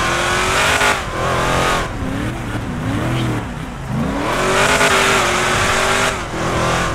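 A custom 1973 car accelerating on a highway, the engine loud and close as it revs up through several gear changes with rising and falling pitch, strong throughout with no talk.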